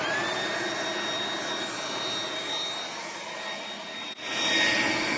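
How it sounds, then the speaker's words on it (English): A fan hooked into a woodgas generator system on a woodgas-powered Cavalier car, running with a steady, loud whooshing roar and a faint high whine, briefly dipping near the end. "we're going to turn on our fan. It's just hooked straight into there."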